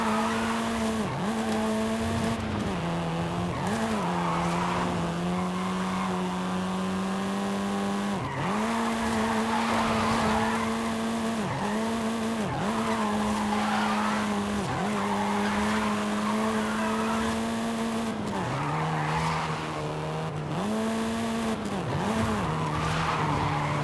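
Golf car drifting in Forza Horizon 5, with a loud sustained tire squeal over a droning engine whose pitch dips and climbs repeatedly as the slide changes.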